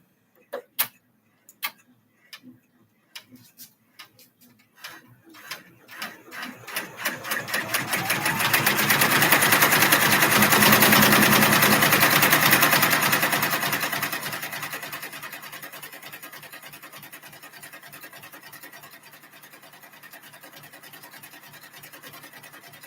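An embroidery machine stitches a see-through pouch, starting with separate clicks that speed up into a loud, dense mechanical whir. The whir peaks mid-clip and then eases into a steady, quieter running hum.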